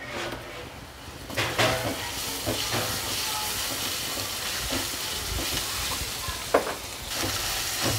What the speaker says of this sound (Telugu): ఇప్పుడు అల్లం వెల్లుల్లి పేస్ట్ వేసుకుంటున్నాను.